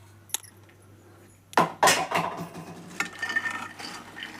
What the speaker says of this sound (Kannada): ಇವು ಮೂಲಂಗಿಕಾಯಿ ತೊಳ್ಕೊಂಡೇನಲ್ರಿ, ಇವನ್ನ ಹುರಿತೇನೆ ನೋಡ್ರಿ